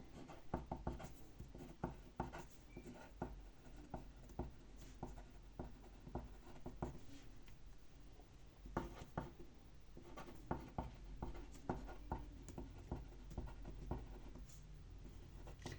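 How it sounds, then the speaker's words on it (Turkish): A pen scratches steadily across the paper of a school workbook during a place-value lesson: soft, close strokes with short pauses between words, quiet and without talk. "Türlerini buraya da yazalım."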